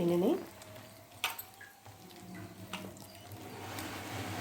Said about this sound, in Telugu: ఇప్పుడు కొన్ని వాటర్ పోసి కొంచెం గట్టిగా కలుపుకోవాలి.